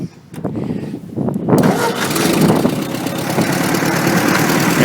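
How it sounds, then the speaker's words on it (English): A rusty old Ford 8N tractor engine cranks briefly, catches with a roar, and settles into a steady, loud, rough idle close by. "We'll get on the tractor here and take a run through the garden. See if I can do that. We'll start up Rusty here."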